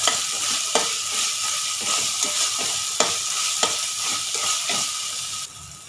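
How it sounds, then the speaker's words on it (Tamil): Puffed rice and egg snack ingredients with mint leaves being sautéed in a pan, a steady sizzle broken by repeated scraping stirs of a spatula, close and fairly loud with no talking. "இப்போ இதை ஒரு வதக்கு வதக்கிக்கலாம் ரொம்ப வதக்க வேணாம்"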